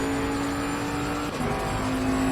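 GT race car engine from Assetto Corsa Competizione running at a steady, loud drone with a sustained engine tone that dips briefly mid-clip and then resumes, with no talk over it.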